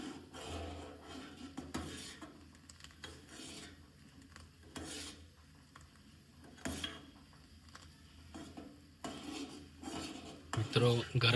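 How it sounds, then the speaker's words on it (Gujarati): A spoon stirs simmering brinjal kadhi in a pot, making repeated scraping strokes against the metal every second or two over a low background bubble. "હવે આપણે એને ચમચી વડે હલાવીશું"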